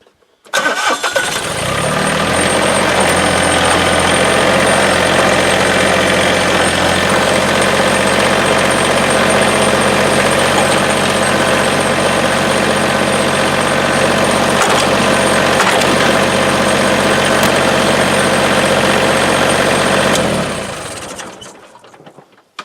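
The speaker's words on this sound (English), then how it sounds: "So I'm going to start the tractor and give her a run through here." A tractor engine cranks and catches, then runs at a steady loud idle for nearly twenty seconds close by before shutting off and fading out.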